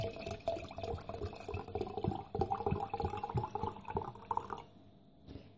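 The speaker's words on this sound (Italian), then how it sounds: "lo riempio d'acqua" Water is poured from a tap to fill a jar of raisins, a close splashing, gurgling stream that runs for several seconds and then stops.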